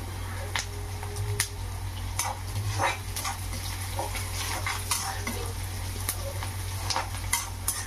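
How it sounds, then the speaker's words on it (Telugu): Curry leaves drop into hot oil with cumin for a bitter gourd pulusu, giving a steady close sizzle. Spoon stirring and small scraping clicks against the pan cut through the sizzle, with no voices. "ఇందులోనే కొంచెం కరివేపాకు వేస్తాం"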